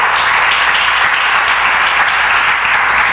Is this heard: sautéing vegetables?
no